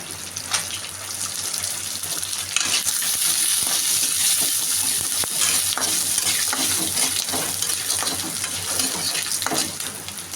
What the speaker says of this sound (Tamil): காஞ்ச மிளகா, பூண்டு இதையும் நல்லா வறுத்துக்குங்க.